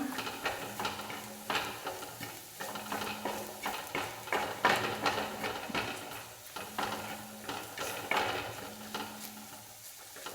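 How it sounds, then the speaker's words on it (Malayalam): Masala with tomato juice is sautéed in a pan while a spoon scrapes and stirs in a steady rhythm, and a soft sizzle sits underneath, close up with no talking. "തക്കാളിയുടെ ജ്യൂസ് എടുത്ത് വെച്ചിട്ടുണ്ടല്ലോ, അത് ചേർത്തിട്ടൊന്ന് അതിൻ്റെയും പച്ചച്ചവ മാറും വരെ കുറച്ചൊന്ന് വഴറ്റിയെടുക്കണം"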